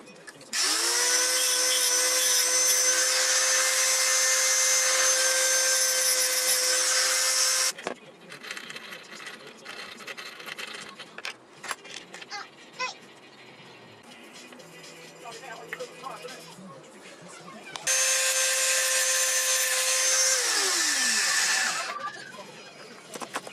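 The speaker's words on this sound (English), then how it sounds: "I'll get to bolting this down and continue with making these brackets." A power tool bolts down a cup holder mount bracket in a Toyota Tarago/Previa/Estima TCR: two long, loud, whining bursts sit close by, and quieter handling noises and brief talk fill the gap between them.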